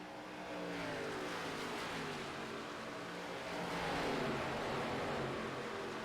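Race cars in a Pro Series race at Nashville Superspeedway roar past at steady high speed, a constant distant engine drone with a slight swell as the pack passes.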